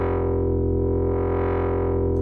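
A soloed wavetable synthesizer oscillator dropped an octave plays a sustained, buzzy, harmonically rich low tone with a slowly shifting timbre, then cuts off at the end.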